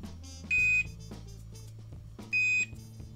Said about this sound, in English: Okay, very loud beep